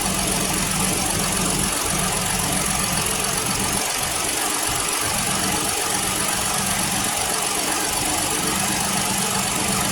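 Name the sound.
2017 Ford Explorer Police Interceptor engine idling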